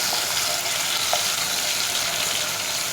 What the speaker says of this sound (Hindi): टमाटर को मुझे बिल्कुल स्लो आंच करके इसी घी में चला लेना है।